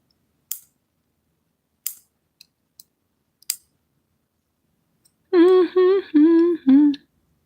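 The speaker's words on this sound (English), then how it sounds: "So I cut my nails." Nail clippers snap sharply on fingernails in four or five separate close clicks spaced across a few seconds in a quiet room, followed by a short burst of a voice.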